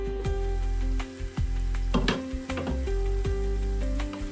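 Spice masala roasting in oil in a covered pan for a clam sukka dish, a steady close sizzle broken by several clanks and stirring knocks, with no talking.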